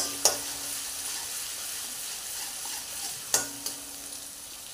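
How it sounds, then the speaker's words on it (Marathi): Ginger-garlic paste frying in a pan after cumin seeds, giving a soft, steady sizzle with a couple of sharp scraping stirs of the spoon and no talking. "आता मी आला लसूण पेस्ट टाकते आहे आणि ती छान परतून घेऊया आपण।"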